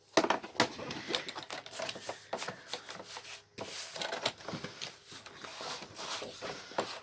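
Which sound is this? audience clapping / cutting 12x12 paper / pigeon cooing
cutting 12x12 paper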